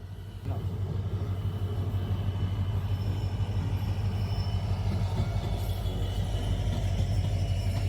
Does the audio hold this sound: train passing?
yes